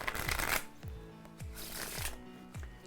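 Playing cards riffle-shuffled by hand during a card game session, a close, crisp burst of flutter followed by several quick, evenly spaced snaps as the deck is squared and bridged, with no talk.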